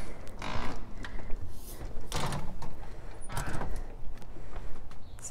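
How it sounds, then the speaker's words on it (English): A door at a rental house opens onto a back yard, with several scraping, sliding noises of a door moving in its track over a broad, noisy background. "Grab the door here."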